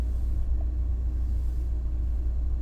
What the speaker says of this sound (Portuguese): Esse carro eu já vi ele rodando ali